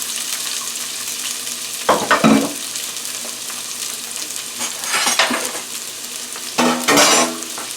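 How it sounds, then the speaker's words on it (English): Onions sizzling and frying in olive oil, a steady hiss broken by a few louder bursts as they are stirred in the frying pan. "I want to put the onions in the oil right here that's already in the frying pan"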